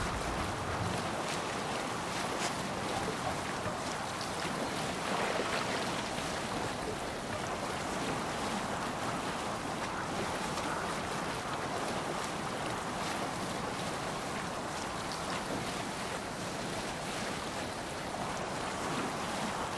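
A sailing ship moves over ocean waves in Assassin's Creed Valhalla, with steady rushing water, surf wash and wind noise filling the scene continuously for the whole stretch.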